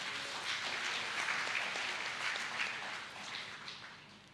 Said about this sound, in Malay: Tepukan untuk mereka